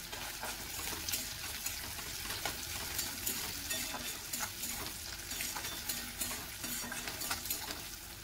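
Chopped tomatoes fry lightly in a pan for palak paneer, giving a steady soft sizzle broken by frequent scraping stirs.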